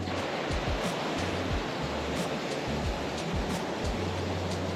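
Creek water rushing past boulders at China Creek, a steady broadband wash with no clear breaks, heard close and fairly loud throughout.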